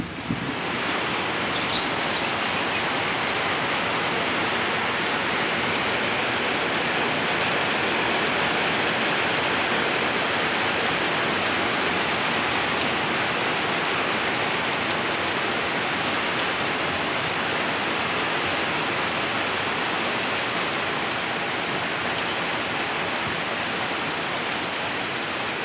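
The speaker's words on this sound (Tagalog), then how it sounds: "lumalakas na naman ang ulan" Heavy rain pours steadily and loudly as a dense, unbroken wash of noise, close and constant throughout, with no voices.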